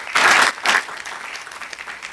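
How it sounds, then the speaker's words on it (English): An audience at a sustainability summit gives a commissioner a round of applause: two loud bursts of clapping close together, then a softer, lingering patter that tapers off. "Everyone, please give Commissioner Davis a round of applause"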